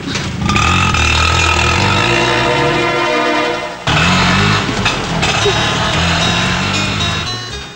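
An auto rickshaw engine runs and drives on a rainy street, a loud, close, rough motor drone with a brief dip partway through and occasional voices mixed in.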